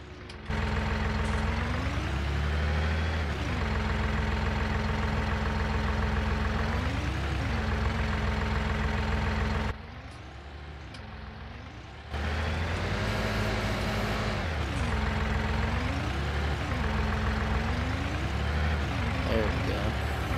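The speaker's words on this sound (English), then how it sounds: "Luckily this is a front wheel assist tractor." Steady engine of a front wheel assist tractor running close by, a loud continuous drone that rises and falls in pitch as it revs, dropping briefly before picking back up.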